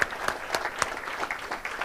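An audience at a climate justice summer school in Nairobi claps together in warm, steady applause that fills the room, with no talking over it.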